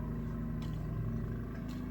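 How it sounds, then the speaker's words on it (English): Lawn mower running outside, a faint, steady low engine drone with a constant rumbling hum throughout, heard from a distance with no talking. "my boyfriend's mowing the lawn"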